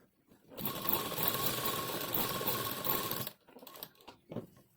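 A sewing machine runs steadily for about three seconds while it stitches elastic, giving a close, even mechanical whirr. It then stops, and a few faint handling sounds follow.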